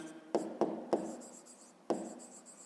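Pen or pencil writing on paper in a quiet room, four short scratchy strokes with small gaps between them, close and soft.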